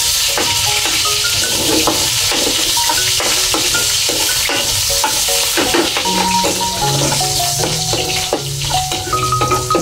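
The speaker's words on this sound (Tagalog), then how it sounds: "Magigisa tayo ng bawang sibuyas" Garlic and onion sizzle and fry in a pan for a Filipino pancit dish, a steady hiss broken by frequent stirring scrapes and clinks of a utensil against the pan.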